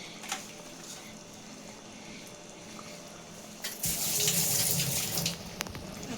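Mutton brain being washed under a running kitchen tap, a soft steady trickle that swells into a louder gush of water splashing for a couple of seconds before easing off.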